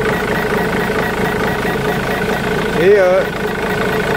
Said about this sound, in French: j'ai remis le moteur en route